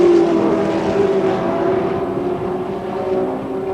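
Group C touring race cars run at Adelaide. Their engines give a steady, loud high-pitched drone that wavers slightly as the cars hold pace together.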